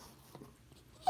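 Dog whimpering for treats, soft breathy whines and a brief higher yelp at the end, close and quiet with no talk.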